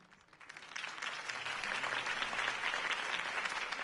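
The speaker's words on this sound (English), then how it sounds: "If only Mr. Wayne, my campaign's largest backer, could have heard that applause" Crowd applause after a campaign speech in the video game Batman: The Telltale Series, a dense steady wash of clapping that swells in from quiet and holds loud, with no talk over it.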